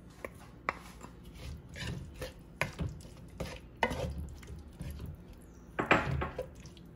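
Mojito isleño sauce with cilantro being stirred by hand in a pot, a run of soft scraping strokes and a few sharp utensil clinks against the rim, close and fairly quiet, with no talk.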